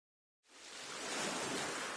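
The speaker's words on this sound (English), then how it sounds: "you can hear the sound of the waves" Ocean waves in the NieR card RPG The Forsaken Maiden on PS5 swell in from silence as a soft, broad wash of surf that builds and holds steady, alone and moderately loud.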